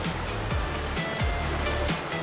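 Sea waves at Siargao in the Philippines wash and roll in a constant loud surge, with no voices over the roar.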